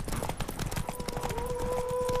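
Hooves pound rapidly in a galloping rhythm during a horse race in The Witcher 3, close and continuous, with a faint sustained tone rising underneath toward the end.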